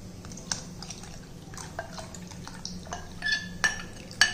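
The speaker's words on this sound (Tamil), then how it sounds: "இப்போ அந்த மாவை தூக்கி இதில் ஊற்றிக்கிறோம்." Soaked ragi flour batter is poured into a pot, with faint drips and light clinks of metal cookware coming in quiet, scattered bursts that grow a little louder toward the end.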